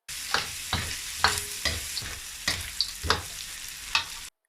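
Minced ginger, garlic and a plateful of dried Sichuan peppercorns frying in hot oil in a wok for spicy chicken, a constant sizzle broken by repeated loud spatula scrapes and tosses at an irregular rhythm, close up, with no talking.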